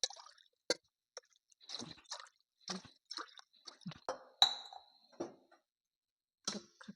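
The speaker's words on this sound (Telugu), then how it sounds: "3 కప్పుల బియ్యానికి 6 గ్లాసుల వాటర్ వేస్తాం" Water poured from glasses into a pot of rice for vegetable pulao, heard up close as a string of short splashes, drips and plops in uneven bursts with quiet gaps, no talking.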